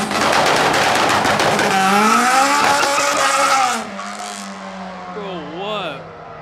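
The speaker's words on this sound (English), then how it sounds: "That is a healthy LS. Healthy LS motor right there." An LS V8 car at a car meet, loudly revving with rapid engine pulses and rising, wailing pitch sweeps, then easing off to a quieter, fading drone; people talk faintly in the background.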